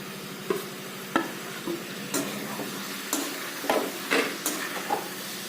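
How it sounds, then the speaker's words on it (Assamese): Pigeon meat curry with spices is stirred in a pan, a soft steady sizzle broken by repeated scraping clinks of a spoon against the metal at an uneven rhythm. "এইখিনি ভালকৈ লৰাই দিম। এতিয়া ইয়াত থৈ দিয়া সকলোখিনি মছলা দি দিম"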